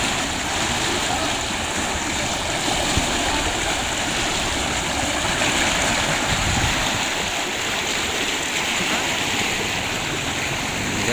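Irrigation stream water flowing steadily outdoors, a continuous rushing, burbling wash that stays level and fairly loud throughout, with occasional faint voices in the background.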